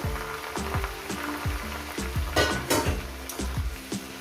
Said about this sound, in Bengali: যেরকম শাক ভাজা করেন সেইভাবে আমি রসুনের সঙ্গে ভেজে নেব